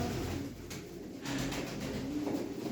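Soft cooing from racing pigeons, low and faint against a steady background hum, with a few gentle calls over the short stretch.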